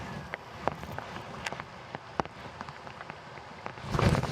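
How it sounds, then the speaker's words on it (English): Very heavy rain pours onto a lake and the ground around it, a dense steady hiss broken by sharp drop impacts, growing louder toward the end. "I don't think I've ever been in such hard rain."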